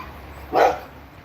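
Playful hyper dogs let out a single sharp bark in the middle of steady background noise, with no talking over it.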